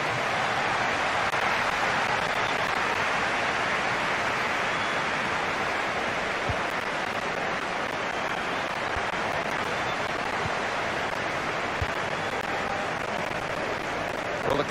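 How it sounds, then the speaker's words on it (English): A stadium crowd at a Manchester City versus Brighton football match applauds the man of the match, a dense, continuous roar of clapping that stays level and loud throughout, like rushing rain. "Will you please give a round of applause for today's man of the match"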